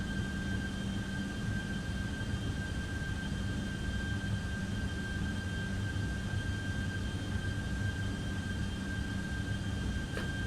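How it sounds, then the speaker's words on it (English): Steady, unbroken drone of Airbus A330-300 engines on a Delta Air Lines flight from Las Vegas to Atlanta in the Prepar3D simulator, a constant broadband roar with a faint high whine and no talk. "Flying the Airbus A330-300 this afternoon, heading back to Atlanta"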